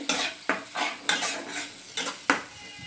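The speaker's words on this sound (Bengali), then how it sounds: "দিয়ে এটা ভালোভাবে আমি আবারও কষিয়ে নেব যতক্ষণ না মশলা থেকে একটা তেল ছেড়ে আসছে" A spatula scrapes and stirs tomato paste with spices in a pan, about six crisp strokes at an even pace over a soft sizzle, close and clear with no talk.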